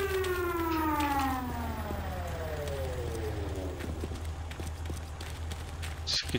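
A siren in Sniper: Ghost Warrior wails with descending harmonic sweeps over a steady low rumble, with scattered thumps and clatter around it.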